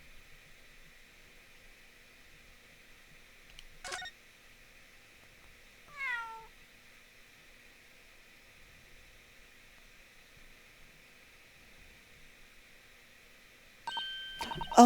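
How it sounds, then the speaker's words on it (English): A small cat in The Great Ace Attorney gives a couple of short, separated meows over a quiet steady background tone, with a brighter burst of sound near the end and no talking. "Oh my, what an adorable little cat."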